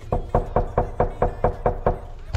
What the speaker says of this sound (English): Knock on the door again.